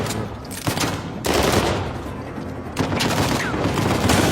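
Dense automatic gunfire fills the video game Uncharted 4 in rapid bursts, loud and continuous with brief gaps, a chaotic fusillade of shots.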